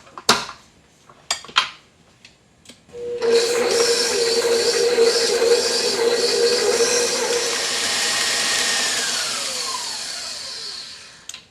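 An electric mixer beats butter, sugar and eggs for gluten-free cake batter, starting after a few clunks and taps with a loud, steady whirring drone whose motor pitch slowly falls, with no talking.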